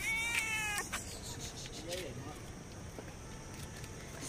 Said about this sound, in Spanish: mirad cuántos gatos